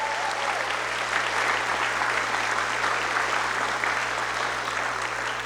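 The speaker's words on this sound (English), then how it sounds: "a round of applause for Ms." Audience applause at a school scholarship night honoring a retiring culinary teacher, a steady, even roar of clapping from a large crowd that holds at constant loudness throughout, with a low hum underneath.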